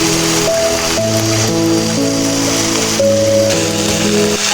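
Chopped onion, chili and garlic fry in hot oil, a steady rain-like hiss of sizzling heard beneath prominent background music.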